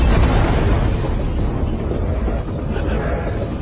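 Uncoupled train cars derail and are thrown off the rails in a Chinese rat-disaster film, giving a loud, dense rumbling crash with metallic squeals and booms that ease slightly toward the end.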